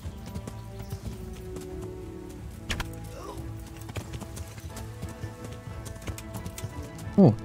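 Horse hooves clop in a steady rhythm while riding in Kingdom Come: Deliverance, low and moderately quiet, with a brief snort or whinny and a loud thump at the very end.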